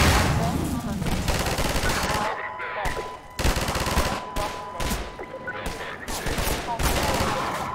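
Automatic turret gunfire in Half-Life 2, loud sustained bursts of rapid fire broken by short pauses, with a steady tone running underneath and a voice speaking over parts of it.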